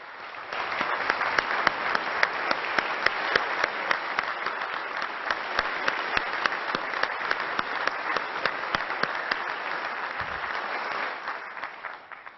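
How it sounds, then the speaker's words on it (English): A large audience at a governor's State of the State address in Illinois claps loudly and continuously, a sustained dense applause that fades near the end. "Reggie, please stand so that we can cheer for your hard work and for your bright future."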